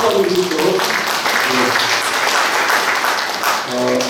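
A crowd at a founders' meeting in Jinju for a planned Australian mission history hall applauds in a continuous, fairly loud wash of clapping, with voices talking over it.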